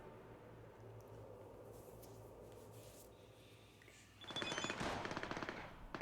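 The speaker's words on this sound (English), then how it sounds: "Oh, I hear the sound of automatic weapons." Automatic weapons fire in the video game Cyberpunk 2077, a faint rapid burst rising out of quiet background ambience near the end, distant and low in level.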